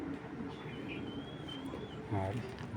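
A racing pigeon hen coos low and near, a soft burbling call rising briefly near the end over a steady room hiss, with a thin high tone drifting behind.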